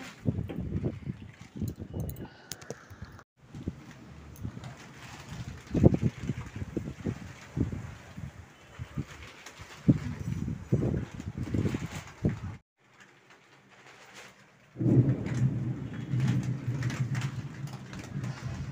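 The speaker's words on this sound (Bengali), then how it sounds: "ঝড়ের আওয়াজ শুনতে পাচ্ছ," Storm outdoors with strong wind gusts and rain, a continuous rushing roar that surges and fades, with a brief near-silent gap before the noise returns.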